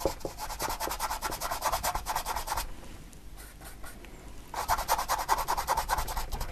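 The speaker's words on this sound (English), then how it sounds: "Just scrubbing this colour in." A paintbrush scrubs blue paint onto a canvas during a beginner's sunrise painting, a soft close rhythmic rubbing and scratching that pauses briefly midway and then resumes, with no talking.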